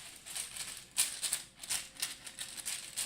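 Game activation cards being shuffled produce a quick run of soft, papery riffling clicks and flutters, close and quiet, in short bursts over a few seconds.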